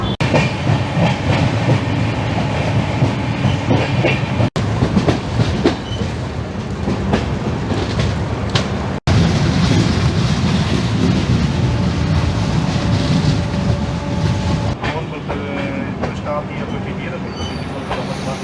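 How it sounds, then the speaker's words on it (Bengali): A Shalimar–Puri train enters Santragachi station at night, its wagons giving a loud, steady rumble with clattering wheels heard from on board. A faint voice is mixed into the noise. "আর এদিকে আমাদের ট্রেন ঢুকছে সাঁতরাগাছি স্টেশন"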